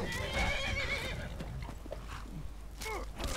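A horse in the video game Skyrim neighs and whinnies, with clip-clop hoofbeats in a busy game soundscape; the whinny rises clearly near the end.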